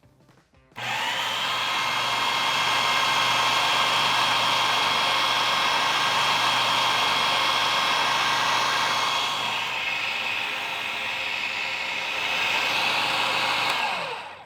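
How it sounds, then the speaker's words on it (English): A food processor's blades spin steadily through hummus, a loud, continuous whirring motor drone that starts abruptly and runs on, dropping slightly in pitch and strength toward the end. "that extra few minutes of the blades running really is gonna take the hummus to a whole other level"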